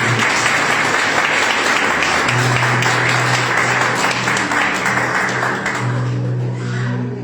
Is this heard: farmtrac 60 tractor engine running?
no